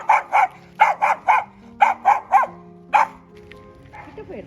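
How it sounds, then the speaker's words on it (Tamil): A dog in Cuddalore, Tamil Nadu barks in quick bursts, about nine sharp, fairly close barks in uneven groups of two and three, then a brief whimpering whine at the end, with no talk. "இங்கே ஒரு நாய் இருக்கு"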